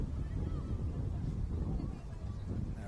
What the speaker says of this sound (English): and now it's windy.